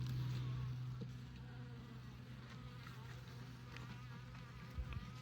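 Honey bees buzz over a hive frame during an inspection, a steady low hum filling the whole stretch at close range with no talk.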